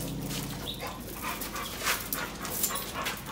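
An excited pit bull pants and whimpers nearby in quick, breathy bursts with faint whines, fairly quiet and continuous over a few seconds, with no speech.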